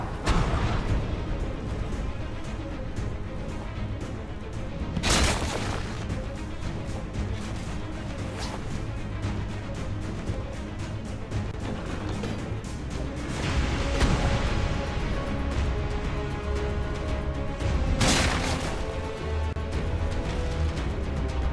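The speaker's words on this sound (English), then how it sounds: "run to the cannon, load the cannon, fire the cannon, and then repeat" A cannon fires repeatedly at a Rock Elemental in ARK: Survival Evolved, sharp booming blasts spaced several seconds apart over a steady rumbling game background.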